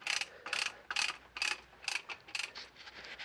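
A ratchet tool is tightened inside a spark plug tube of a classic Daimler V8 SP250 Dart engine, giving close, rhythmic bursts of metallic ratcheting clicks about twice a second.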